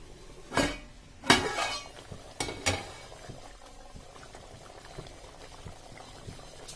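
Egg curry simmering in a covered pot on low heat, a soft bubbling under a few sharp metallic clanks of a lid or utensil near the start, then quieter low bubbling with faint taps, no talking.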